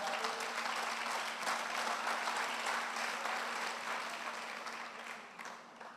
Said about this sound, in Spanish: Suelte el cuaderno y aplauda, aplauda,